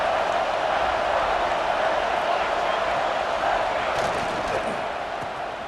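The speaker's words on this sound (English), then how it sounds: "the crowd coming to life here, trying to help this defense down in the red zone" A stadium crowd roars in a steady, dense wash of cheering at a college football game in EA College Football 26, Georgia versus Ohio State, with a commentator talking over it.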